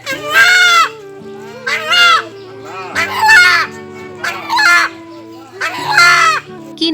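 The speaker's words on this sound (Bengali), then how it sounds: "কিনে আনা মোরগের মুখে আল্লাহ আল্লাহ ডাক শুনে" A rooster crows loudly and close by in about five drawn-out, tonal calls, with low animal sounds faintly beneath.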